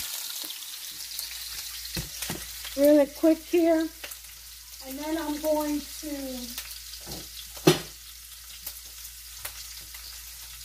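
Steady sizzling of beef sausages frying in a pan, with a person talking over it partway through and a brief clatter near the end.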